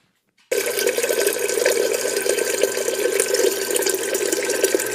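Water streams steadily from a refrigerator dispenser into a container for making coffee, starting abruptly after a brief silence and then running at an even, close, continuous rush.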